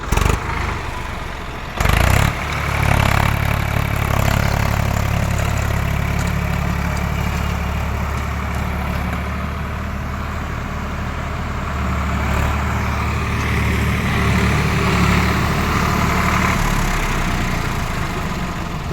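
Farm tractor engine running, a steady close diesel chug and idle throbbing for the whole stretch, briefly interrupted by a couple of knocks near the start, without speech.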